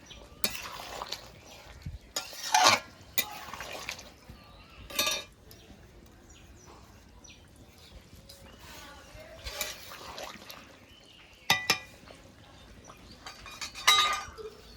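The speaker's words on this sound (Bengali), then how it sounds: "এবার জিরে তেজপাতাটা তরকারির মধ্যে দিয়ে নেড়ে চেড়ে তরকারিটা নামিয়ে নেব" A spoon stirs cumin and bay leaf paste into a thin rohu fish curry in a home kitchen, with quiet scrapes and scattered metallic clinks against the pot, separated by pauses and faint background sound.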